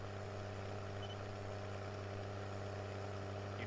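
A tractor engine in the farming game Farm Simulator 17 drones at a steady, even idle, a low humming rumble holding constant with no talk over it.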